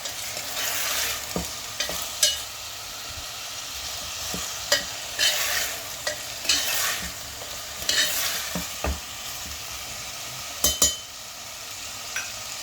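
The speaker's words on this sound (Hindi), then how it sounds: "इसे आपको कम से कम 5-7 मिनट तक इसी तरह से भूनते रहना है, चलाते रहना है" Potatoes with black pepper fry in a pan as a spoon stirs them, a soft steady sizzle broken by repeated scraping and clinking strokes every second or two, close up with no voices.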